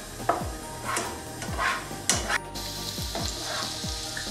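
Rice and vegetables sizzle steadily in a hot frying pan, with crackling spatter and repeated scraping strokes of a utensil every half second or so, close and continuous.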